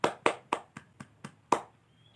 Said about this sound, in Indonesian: tepuk tangan untuk Ahmad